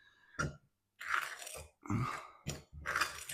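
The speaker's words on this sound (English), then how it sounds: "Get the old fork and just mix it round." A fork mixes fine, breadcrumb-like pastry crumbs in a bowl for a fruit winter pie. It makes several short, irregular crunchy scrapes, close and moderately loud, with no talking.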